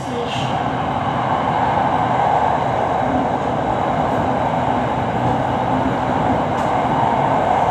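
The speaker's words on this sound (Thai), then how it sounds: "รถไฟก็จะ วิ่งลงเป็นทางวิ่งระดับดินนะฮะ" Red Line electric train running between Bang Sue and Taling Chan, descending to ground-level track, heard from inside as a loud, steady rumble and rolling roar throughout.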